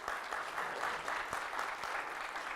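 A conference audience at a keynote claps warmly for volunteer associations, a steady wash of moderate applause from a large room, somewhat distant and sustained throughout.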